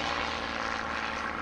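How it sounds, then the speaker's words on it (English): Propeller engine of an aerobatic airplane climbing at a 1987 airshow in Sussex, New Jersey, trailing exhaust smoke; a steady, loud droning roar holds alone throughout without voices. "now Craig goes up in that beautiful blue New Jersey sky here with that smoke coming out of the exhaust stacks"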